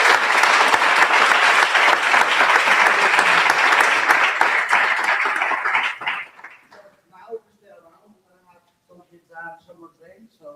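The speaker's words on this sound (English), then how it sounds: "and for Valeria, please big applause and enjoy the evening" Audience applause at a Vue.js meetup in Barcelona, a dense sustained wave of clapping that fades out after about six seconds, followed by scattered voices and chatter in the room.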